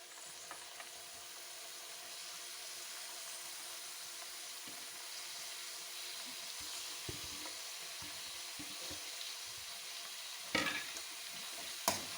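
Radish pods and softened potatoes fry together in a pan for a Punjabi-style dish, a soft steady sizzle with occasional light scrapes and a couple of louder clattering stirs near the end, quiet and close, without talk.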